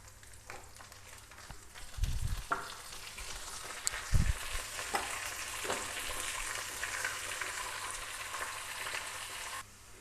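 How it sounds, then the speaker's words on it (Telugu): Onion pieces fry in hot oil for a tempering in a pan while cooking tomato dal, making a steady sizzle with a couple of sharp utensil clinks partway through. "మనకి ఇప్పుడు పోపు వేగిపోయింది కదా"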